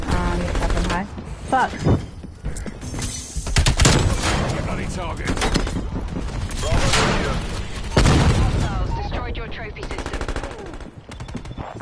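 Loud, close gunfire in the video game Call of Duty, rapid automatic bursts and single shots with booms mixed in, running throughout while a player talks and swears over it.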